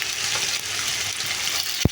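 Garlic and ground masala paste frying in a pan for chicken curry with jackfruit seeds, a dense close sizzle throughout, ending with a single sharp knock of a spoon against the pan.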